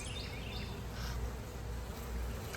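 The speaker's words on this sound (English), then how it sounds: "look at these bees I've attracted" Bees buzzing around jars of jelly set out by a garden, a soft steady hum with a few individual insects droning nearby at low volume.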